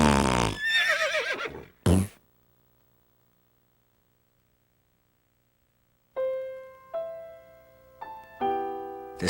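Horse neighing loudly up close, a shrill whinny and a short snort, then silence, then several separate musical tones that rise and fade.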